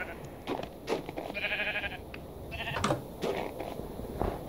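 Several sheep in Minecraft Java Edition give short, nasal bleats, a few overlapping calls spread across a few seconds, with a faint murmur of background noise underneath.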